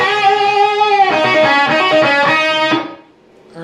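Distorted electric guitar plays a lick in the style of an early rock and roll guitarist from the second measure of a song's solo, a loud run of double-stop notes that cuts off into a brief gap before a new note starts.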